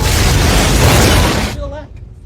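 A grenade blast in the 2004 film The Punisher: a loud, close, sustained booming burst that cuts off abruptly and leaves quieter fading debris sounds.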